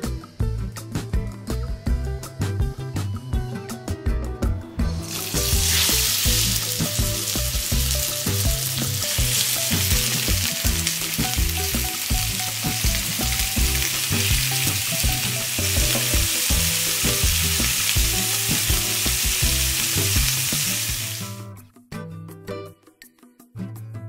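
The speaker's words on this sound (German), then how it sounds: "So, ich werde die Spieße jetzt einmal scharf anbraten." Turkey skewers sear in clarified butter in a hot pan, a loud steady sizzle erupting after a few seconds of quiet clatter and continuing for about fifteen seconds before dying away with light scraping.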